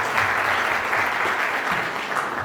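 Vigorous audience applause at an award ceremony for a comedy performer known as Samadhan Mama, a thick, continuous crowd of clapping hands that stays loud and steady throughout.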